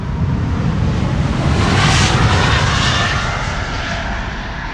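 A Boeing 777-200 airliner, 21 years old, departing Amsterdam Schiphol Airport; loud, steady engine roar swelling to a peak and easing slightly, continuous with no talk.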